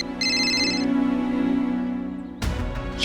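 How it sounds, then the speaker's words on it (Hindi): A mobile phone ringtone for incoming calls plays loudly and close as a steady electronic melody with bright repeating tones, ending abruptly in a brief rustle. "एक मिनट, हाँ, मेरे फोन कॉल्स आ रहे।"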